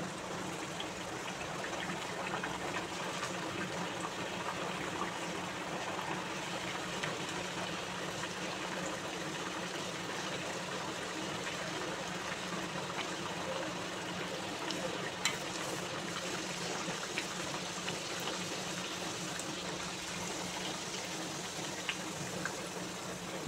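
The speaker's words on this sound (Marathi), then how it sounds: "आता वडा तेलामध्ये सोडून घेऊया." Vada frying in hot oil, a steady low bubbling and fizzing that continues evenly and fairly quietly throughout, with no talk.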